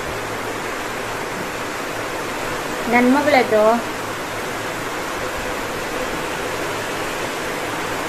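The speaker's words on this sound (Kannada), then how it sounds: "ಜೋರ್ ಮಳೆ ಬರ್ತದಲ್ಲ" Heavy rain falls outside a window as a steady, even wash of hiss, while a voice speaks briefly near the middle.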